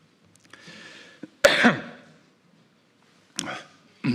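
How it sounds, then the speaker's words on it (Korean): A few sharp, throaty coughs burst out in quick succession, close and fairly loud, with a short pause before another pair, from a speaker during a political campaign announcement speech. "기침 때문에 죄송합니다."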